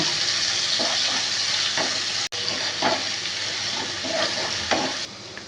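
Salted onions fry in a pan for a boal fish curry until browned, a loud close sizzle with stirring scrapes, briefly cutting out once before carrying on steadily.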